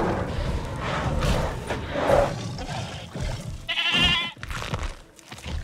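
Goat bleating in the Jurassic World video game, several wavering, nasal bleats against a busy background of game ambience, the clearest one loud and close near the middle.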